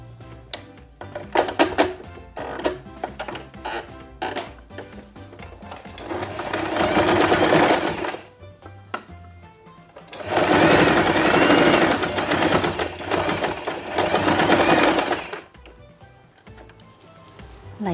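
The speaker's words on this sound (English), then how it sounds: "I will sew here using regular stitch." A sewing machine runs a regular stitch through fabric for a baby turban cap, in two long steady bursts of rapid whirring separated by short pauses and clicks.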